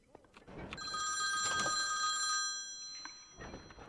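Telephone ringing inside a video game set in a bedroom with a computer desk, a bright electronic trill with steady tonal overtones that rings twice, the second ring shorter, close and clear over faint background.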